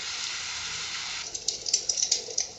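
Rain from a sleep sound machine, a smooth hiss of falling water that thins partway through into scattered droplet-like splashes and ticks, close and moderately loud.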